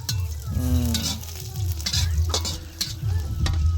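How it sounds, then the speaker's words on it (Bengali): Onions fry in ghee with a steady close sizzle, broken by repeated stirring scrapes throughout; a voice-like tonal hum rises briefly near the start. "পেঁয়াজেরও কি জীবন, চিন্তা করো, ঘিয়ের মধ্যে ভাজতেছে"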